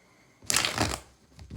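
A tarot card deck is shuffled in one brisk riffle of papery flutters lasting about half a second, then a softer tap, close and alone in a quiet room.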